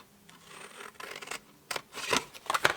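Scissors snip paper along pre-scored lines to trim away a skinny rectangle, giving a few short dry cutting strokes with light rubbing, close and fairly quiet, with no talking.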